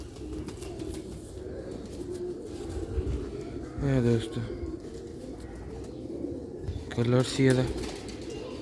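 Pigeons coo in a loft, two clear bursts of throaty, rolling cooing standing out over a low murmur of background noise while someone talks nearby.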